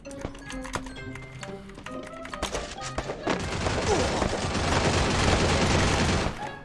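Gunfire in the battle royale game Free Fire: a run of sharp separate shots at first, then a dense sustained burst of rapid fire and noise that fills most of the clip before cutting off.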